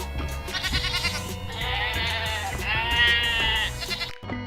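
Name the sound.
goat bleating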